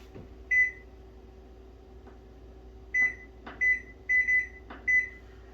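Several short electronic beeps from an oven timer being set for baking Irish brown bread at 375 degrees, a single beep followed by a quick cluster of five, clear and close in a quiet kitchen with a faint hum.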